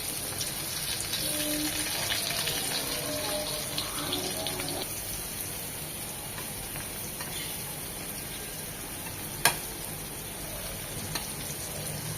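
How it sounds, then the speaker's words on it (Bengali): A batch of small puti fish frying in oil for a crisp fish fry makes a steady, close hiss of sizzling with light crackle and one sharp clink near the end, without talk. "এই তেলেই বাকি মাছগুলো দিয়ে দেব।"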